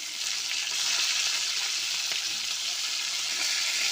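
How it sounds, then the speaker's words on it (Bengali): Bhola fish frying in a pan for a spicy fish curry, a steady dense sizzle that stays close and constant throughout with no talking. "একটা ভাজা বসেছিলাম একটু ভাজা হয়ে গেছে"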